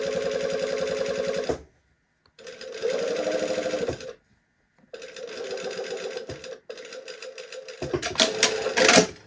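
A sewing machine topstitching fabric runs in several fast, steady bursts of rapid mechanical stitching, separated by short pauses and ending with a louder clattering burst, close up.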